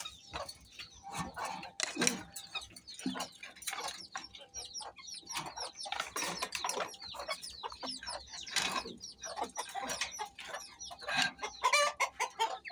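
A flock of chickens clucks busily and excitedly at close range while being fed a morning mix of dried fish and rice, with overlapping cackles, a few louder squawks and a faint dog in the background.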